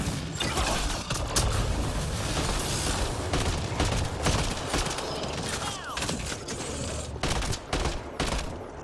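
Gunfire in Mass Effect: Andromeda, a sustained close barrage of rapid shots with mechanical clanks and creaks mixed in, steady throughout.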